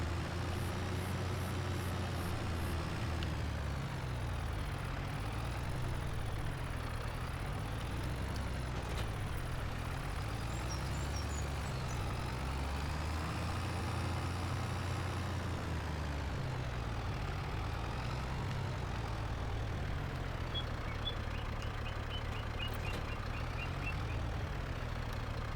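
Tractor engine in Farming Simulator 25 rumbling steadily at a low idle-to-drive pitch while moving and reversing a trailer, with intermittent reversing beeps over the continuous drone.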